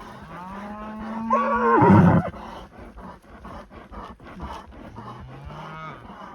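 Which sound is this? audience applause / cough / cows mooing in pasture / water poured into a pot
cows mooing in pasture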